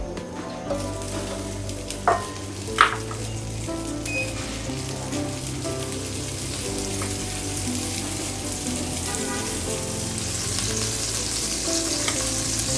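Butter sizzles steadily in a pan while baked pasta with Alfredo sauce is being made, a continuous close crackle with a couple of sharp utensil clinks early on.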